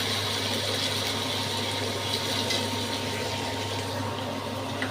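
Potatoes fry in a pan over high heat, producing an even, continuous hiss and bubbling that stays at a moderate level, with no voices.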